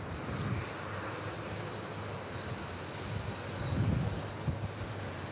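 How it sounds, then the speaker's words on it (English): Southwest Airlines Boeing 737-800 jet at LAX, heard from outside: a distant, fairly faint broadband engine roar under gusty wind noise, swelling a little near the end. "And that is Southwest Airlines flight 2111 heading to Albuquerque, New Mexico. It's a 737-800."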